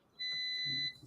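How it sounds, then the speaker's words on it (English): An air fryer beeps once to signal it is done: a single steady electronic tone lasting under a second, clear and close, with faint room noise around it. "All right, that's the air fryer."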